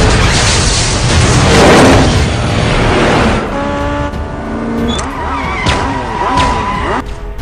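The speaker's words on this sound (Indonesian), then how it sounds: "Ethan membuat asap dengan roda motornya untuk menghalangi pandangan anak buah Sean" A motorcycle in a Mission Impossible film chase spins its rear wheel to throw up smoke: a loud, roaring rush of engine and tire noise, then a revving engine with rising and falling pitch and sharp squeals.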